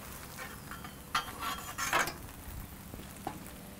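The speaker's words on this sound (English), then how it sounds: "shallow frying this essentially" Tortilla shallow frying in hot oil for a tostada, with a low steady sizzle broken by a few louder bursts of crackle and clinks from a utensil turning and pressing it in the pan.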